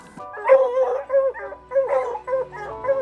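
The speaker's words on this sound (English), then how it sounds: "They can sniff in the cold snow, barking warnings when the scent of bobcats is not yet close." Guard dogs howl and whine in a snowy wooded setting, a run of drawn-out wavering cries with yips in between, loud and close, no voices present.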